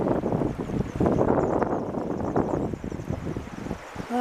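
A strong east-northeasterly wind blows up a river on a fishing trip and roars steadily into the microphone, with gusting rumble and buffeting and no other clear sounds.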